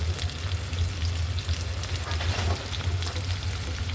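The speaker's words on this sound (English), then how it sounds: "When you're sauteing something with onions, you saute them until they're soft and translucent" Onions sautéing in a pan give a steady, close crackling sizzle with fine popping throughout and no speech.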